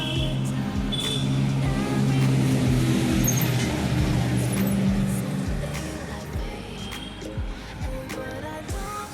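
Motorbikes and scooters in Kolkata road traffic on New Year's Day, a continuous engine drone with passing vehicles and faint horns, recorded from a moving vehicle.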